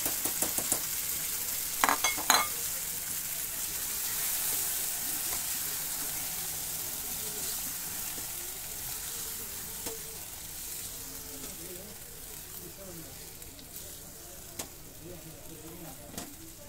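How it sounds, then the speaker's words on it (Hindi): Spice paste for Kashmiri chicken fries and is stirred in a pan, giving a soft steady sizzle with a few sharp utensil clinks early on and occasional scrapes, gradually quieting; faint talk sits underneath. "पेस्ट डालने के बाद में अच्छे से हम इसे भून लेंगे, मिक्स होने देंगे और इसे ड्राई करेंगे।"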